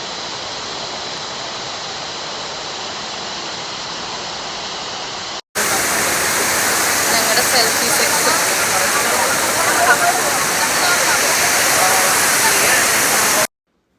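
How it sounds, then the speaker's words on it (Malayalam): Athirappilly waterfall roars with dense, unbroken rushing water; the sound cuts briefly and returns louder and closer, with a voice faintly audible over it. "ഇത് പരന്നൊഴുകണ വെള്ളച്ചാട്ടം"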